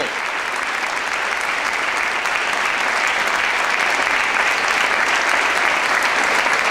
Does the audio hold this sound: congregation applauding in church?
yes